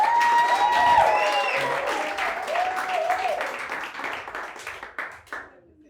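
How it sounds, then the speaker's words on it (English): Audience applause at a campaign launch in Durban swells quickly from many hands clapping, with some cheering voices, then gradually thins out and fades over several seconds. "So give yourselves a round of applause."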